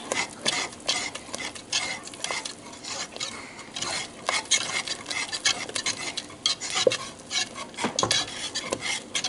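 Mozzarella is stirred into chicken alfredo pasta in a pan, with a spoon repeatedly scraping and clinking against the metal in an irregular rhythm over a faint sizzle, close up and without talking.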